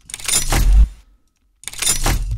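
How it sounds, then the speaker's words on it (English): Two identical mechanical impact sounds with metallic clatter and a heavy low thud, separated by a brief silence, like a locking sound effect played twice. "And then we have this other lockdown sound that sounds like this."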